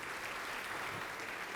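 Soft, steady applause from a church congregation, a brief even wash of clapping at a distance with no distinct claps standing out.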